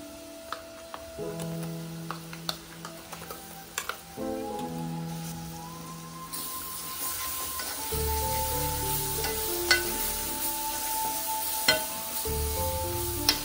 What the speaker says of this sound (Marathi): आता आपण हा जो वाटण बनवलेला आहे तो टाकून घेऊ